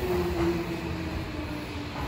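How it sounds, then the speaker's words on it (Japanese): A Tokyo subway train pulls into a station, with a steady rumble of the cars and a brief squealing tone near the start, loud and continuous without speech. "では電車が来たので乗り込んでいきたいと思います。"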